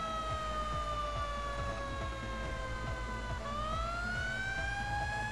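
A fire engine siren in a firefighting video game wails loudly and steadily with no break, its pitch dropping and then switching to a rising tone partway through.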